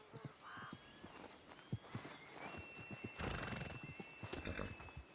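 A horse in a medieval role-play video game whinnies clearly, with the sharp clip-clop of its hooves tapping in an uneven rhythm around it and faint background game ambience.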